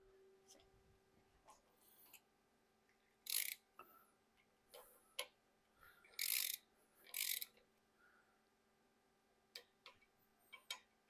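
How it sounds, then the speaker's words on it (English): A torque wrench tightens bolts on a 6.0 Powerstroke diesel engine during a lifter and branch tube installation. Sharp ratcheting clicks come in irregular close bursts over a quiet background. "So we're going to get those torqued next."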